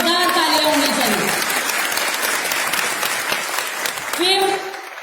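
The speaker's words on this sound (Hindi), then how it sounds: "कुणाल चंदन सर जी के लिए भी एक बार जोरदार तालियां होनी चाहिए।" Loud, sustained applause from an audience at a success-story event, steady clapping throughout with an amplified voice speaking over it at the beginning and again near the end.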